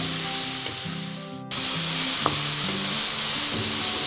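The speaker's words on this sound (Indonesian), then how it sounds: "Sekarang kita masukkan tahunya, kita aduk-aduk lagi biar tercampur rata." Tofu is stir-fried and stirred in a pan for a spicy bean sprout dish, giving a loud, steady sizzle with a short break and scraping spatula strokes, close up and without any talking.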